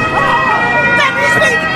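Carabinieri police siren wailing loudly and close, its rising and falling tones sweeping steadily, with crowd noise and voices talking underneath.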